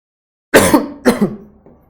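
Two close, loud throat-clearing coughs in quick succession, followed by a faint trailing grunt, with silence before.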